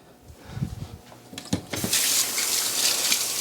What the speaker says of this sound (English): I'm going to rinse off this butter quickly with some cold water just to separate all the extra buttermilk that's in it